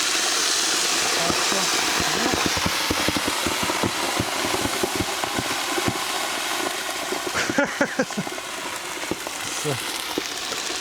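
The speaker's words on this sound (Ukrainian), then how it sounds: "вливаємо кип'яток" Steady rushing hiss of boiling water poured into a hot cauldron outdoors, with crackling bubbles and sputtering throughout, fairly loud and continuous.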